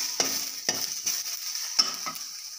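Garlic and ginger stirred and frying in a pan for a moringa-leaf dal, a steady hiss with several sharp scraping stir strokes spaced through the clip, close and without talk.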